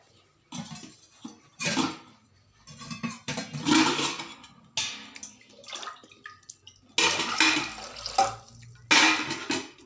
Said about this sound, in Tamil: தேவையான அளவு சூப்புக்கு தேவையான அளவு தண்ணி ஊற்றிட்டேன்